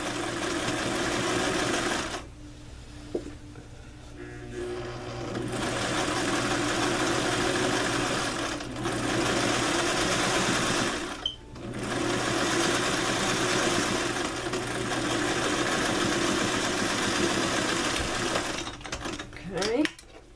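A domestic sewing machine stitching a placket zipper close to its teeth, running in steady bursts with short pauses between runs, fairly close and moderately loud, with no talk over it.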